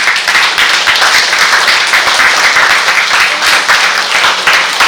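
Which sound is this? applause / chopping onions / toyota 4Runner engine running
applause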